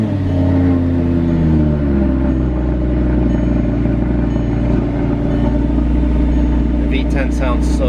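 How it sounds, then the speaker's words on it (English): An Audi's V10 fires up from cold and settles into a loud, steady, rumbling idle, with a person talking over it. "with no further ado, let's do a cold start"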